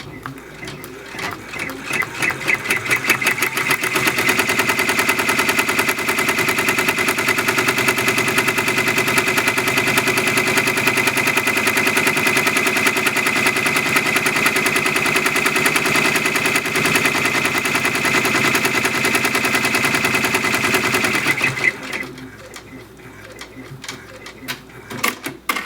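A Brother PR 655 embroidery machine stitches out the first part of a design, a loud, steady, rapid mechanical chatter that runs without a break for about twenty seconds and then stops, leaving a quieter room.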